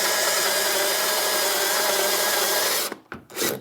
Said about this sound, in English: All you do is take a step drill, and you just stick this bad boy in, and you can't go too far.